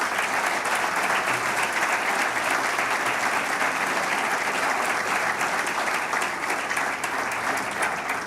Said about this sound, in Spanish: Quiero pedir un fuerte aplauso para ella.